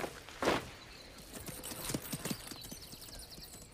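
Horse hooves clip-clop at a steady walking rhythm, moderately close and fairly quiet, with a louder thump near the start and no talk over them.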